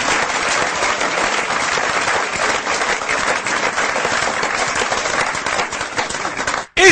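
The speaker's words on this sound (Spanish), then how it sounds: "Démosle un gran aplauso a Jesucristo, hermano, esta mañana." A church congregation applauds during a Spanish-language sermon, a dense, sustained wash of many hands clapping at steady volume, cutting off abruptly at the end.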